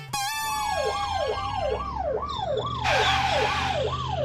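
An ambulance siren wails loudly and close by in a steady rising-and-falling cycle, with a road vehicle rumbling underneath and a brief burst of higher tones joining partway through.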